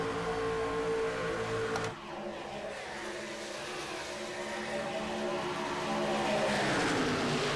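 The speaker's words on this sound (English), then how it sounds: "if you want to hear what it sounds like in these virtual trucks" Race truck engines in the iRacing video game at EchoPark Speedway roar steadily with a brief dip near two seconds, then rising revs and whine, loud and continuous with no talk.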